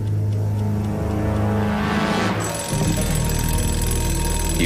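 An alarm clock set for 3 a.m. rings loudly and continuously with a bright, tonal jangle that shifts character partway through, with no speech.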